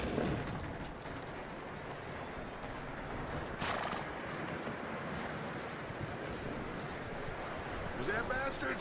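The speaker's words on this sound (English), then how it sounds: "That looks like a decent horse." A horse whinnies and its hooves clip-clop steadily in Red Dead Redemption 2, with a voice speaking over the hoofbeats and ambient outdoor game sounds.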